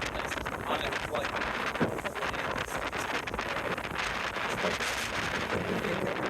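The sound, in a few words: wind blowing on West Wight Potter sailboat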